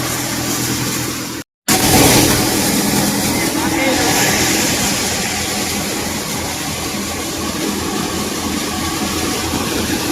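A farm tractor engine runs steadily and loudly up close, a continuous rumbling drone with a brief dropout early on, while voices are heard faintly underneath.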